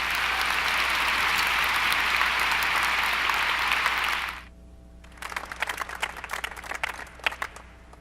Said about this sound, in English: Let's give one more round of applause for all of our honorees.